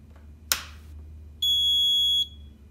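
A mini power monitor's buzzer sounds at power-on: one steady, high electronic beep held for under a second, after a sharp click, against a quiet low hum.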